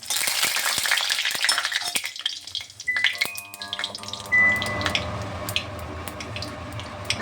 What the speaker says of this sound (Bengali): শুকনো লঙ্কাটা ভালোভাবে ভেজে নেব।